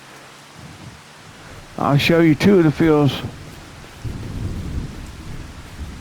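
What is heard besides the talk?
rain and thunder on a farm in Iowa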